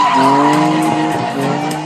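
A BMW E34 525i does a burnout, tires squealing loudly and continuously with the engine revving close up for a couple of seconds.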